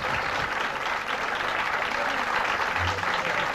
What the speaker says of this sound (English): there's a big round of applause here in the Mission Control Center